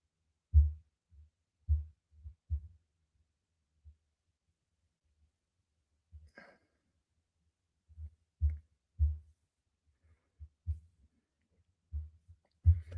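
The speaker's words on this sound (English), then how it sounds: "the sound of Kenpachi upping his spiritual pressure" A Bleach-style sound effect for Kenpachi raising his spiritual pressure: deep, muffled thumps pulse irregularly like a heavy heartbeat, with a brief brighter swell midway, sparse and low against near silence.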